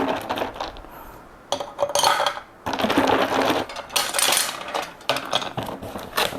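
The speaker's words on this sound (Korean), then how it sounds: "화산석을 넣어줄 거예요." Small volcanic stones clatter and rattle as they are poured into a fire pit in several bursts, with scraping and clinking between pours, close up and fairly quiet.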